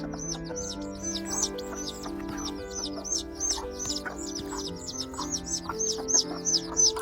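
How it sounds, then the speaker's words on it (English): A mother hen clucks in low, repeated bursts while defending her chicks from a snake. Rapid high-pitched chick peeps run continuously over the top at close range. "This is how a mother hen defends her offspring from a snake."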